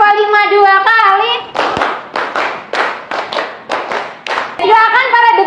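Schoolchildren in a classroom clap a quick rhythmic pattern, about ten crisp claps in a row, with chanted young voices before and after the run of clapping.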